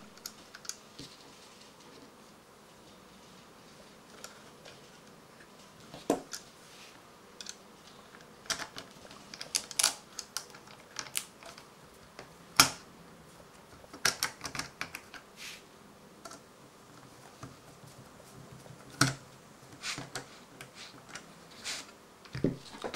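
Sharp, irregular clicks and ticks as screws are driven into the hard disk plate of an Xtreamer media player, sparse taps that cluster into busier bursts, fairly faint and close with no talk.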